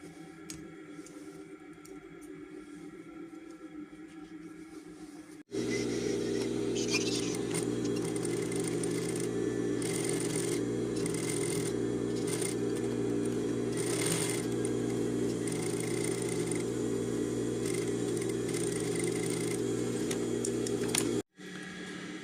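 Sewing machine stitching a pocket onto a pair of jeans, running in one long steady, loud mechanical whir for about fifteen seconds, with quieter motor hum before it starts.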